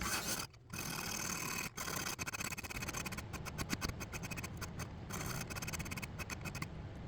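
A 14C28N steel knife blade is worked across bronze CBN sharpening stones, producing a continuous close, rasping scrape with rhythmic strokes and brief pauses, heard alone without talk.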